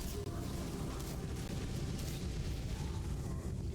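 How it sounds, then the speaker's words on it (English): Repeated Corpse Explosion skill blasts in the Diablo video game, a dense, continuous churn of booming bursts and crackling noise that stays loud and steady throughout, with no voice heard. "So if you're going to spam the corpse explosion"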